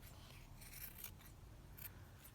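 Scissors trimming a paper clip pad along the top and sides, a steady run of soft snipping and rasping cuts at close range, fairly quiet, with no talking.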